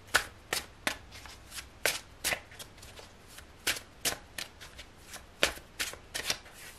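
A deck of tarot cards being shuffled by hand, a quick series of crisp riffling bursts in an uneven rhythm, close and clear with no talking.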